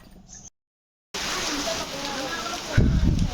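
Heavy rain pours down steadily at a farmhouse after a brief silent gap, a dense close hiss that swells louder near the end, with a voice speaking over it.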